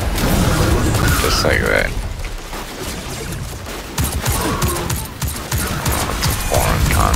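Heavy gunfire in the shooter Destiny 2, loud and dense with rapid bursts and booms running throughout, and someone talking briefly over it.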